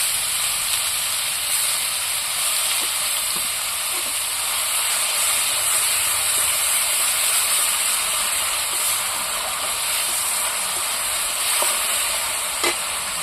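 Onion paste hisses and sizzles steadily in a hot pan of oil with cardamom and cloves, a continuous loud frying hiss with faint crackles and no talking.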